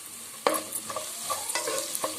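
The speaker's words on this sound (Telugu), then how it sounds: "కొంచెం వెల్లుల్లి వేగితే చాలు" Garlic and curry leaves fry in hot oil with onion tempering, a steady close sizzle broken by several scraping stirs of a spoon through the pan.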